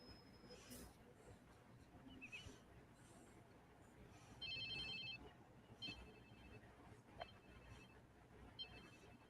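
An in-game phone ringing in Watch Dogs 2, a short electronic ringtone bursting out in a few repeated pulses over a busy street backdrop of traffic and crowd noise.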